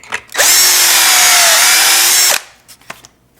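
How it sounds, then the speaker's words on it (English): A power drill bores a pocket hole through a wainscoting board held in a pocket hole jig, whining loud and steady for about two seconds before spinning down, followed by a few light clatters. "they give you a bit and you just drill each side"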